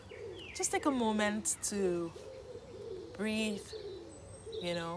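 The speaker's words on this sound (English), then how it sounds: "And the noise you hear, the birds behind me, of course you can tell." Pigeons or doves cooing outdoors on a spring day, repeated soft coos and chirps close by while a person talks calmly over them.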